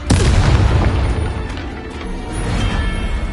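A heavy booming blast from Bombarda and Confringo spells in the Hogwarts Legacy video game opens loud and close, then rumbles on in a dense sustained roar.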